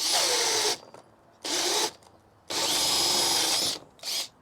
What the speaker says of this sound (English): I think I'm gonna burn out my drill, guys.